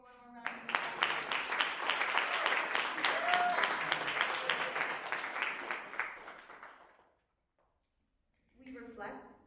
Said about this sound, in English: Can we give him one more round of applause?